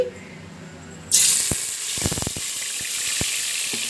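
Onions hitting a hot pan, a sudden loud hiss that settles into steady, bright sizzling frying, with a few clicks and taps of utensils partway through.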